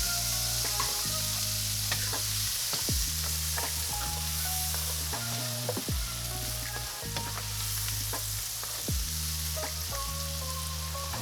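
White and red onions cook in a pot with a constant sizzling hiss, while a utensil knocks and scrapes against the pot in a loose, repeating rhythm, close and clear, with no voices.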